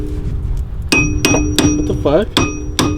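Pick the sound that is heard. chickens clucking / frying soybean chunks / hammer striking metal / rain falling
hammer striking metal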